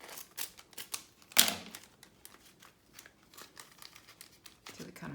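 Paper for a mini album is trimmed in a series of close, crisp snips and rustles, including one louder sharp cut, with a voice speaking softly at times.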